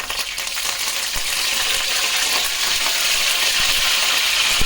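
Curry leaves crackling in hot oil with mustard seeds for a fish curry, a loud dense sizzle with scattered pops and light stirring taps, close up and continuous with no speech.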